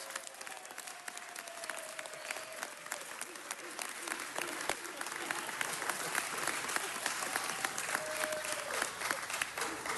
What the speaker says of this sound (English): Let's give Stevie Wonder a round of applause.